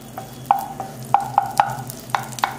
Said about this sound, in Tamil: இந்த மாதிரி பேன் எடுத்துக்கிட்டு கொஞ்சமா பட்டர் சேர்த்துக்கோங்க. பிரெட்டை டோஸ்ட் பண்ணி எடுத்துக்கலாம்.